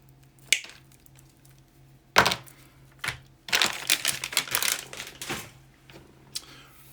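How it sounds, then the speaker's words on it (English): Cutting a couple feet of 14 gauge copper wire for a DIY electric skateboard voltmeter build, heard as sharp close snips and crunching clicks in several bursts, with rustling handling between cuts and no talking. "We are also going to need 14 gauge copper wire. Just going to cut off a couple feet of this."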